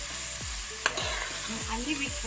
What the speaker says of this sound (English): And I stir everything together.